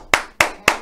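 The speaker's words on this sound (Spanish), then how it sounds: "fuerte el aplauso para él" Three sharp, evenly spaced hand claps ring out close and loud on a Spanish-language radio show, each crack decaying quickly before the next, with no talk.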